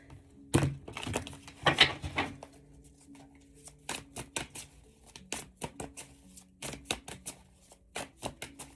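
Cards are riffled and shuffled close up, quick papery flutters followed by a string of sharp taps and snaps at an uneven rhythm.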